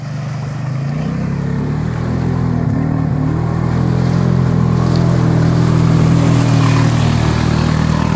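A vehicle engine revs hard near a small river crossing on a trip by Lake Ingol in the Krasnoyarsk region, producing a loud, close, sustained drone that builds and holds steady.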